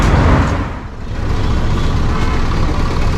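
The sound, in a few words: public buses in traffic in Dhaka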